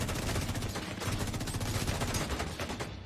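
Rapid automatic gunfire in The Division 2, a dense unbroken stream of shots running loud and close for the whole stretch with no pauses.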